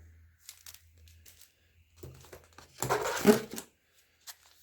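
Crinkly tissue paper rustling in a short burst, with a quieter crumple earlier and a brief crackle at the end, close to the microphone.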